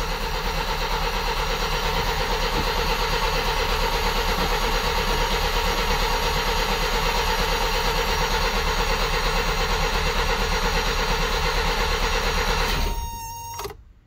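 A BMW E21 engine cranks on its starter without catching, a loud, steady whirring drone that holds unbroken for about thirteen seconds before cutting off abruptly.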